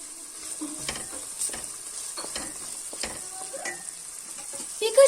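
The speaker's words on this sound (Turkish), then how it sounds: "Soğanımızı kavuruyoruz iyice." Soft sizzling and crackling of onions frying in butter and olive oil in a pan, with occasional stirring scrapes and clinks throughout, steady and close, no voices.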